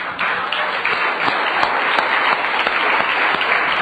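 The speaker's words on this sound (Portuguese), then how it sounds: "Aplaude o Senhor Jesus." A church congregation applauds, many hands clapping in a loud, dense, continuous burst that is close and full. The sound holds steady for the whole stretch, with a few sharper individual claps standing out.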